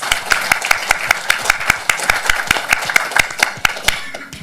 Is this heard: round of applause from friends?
yes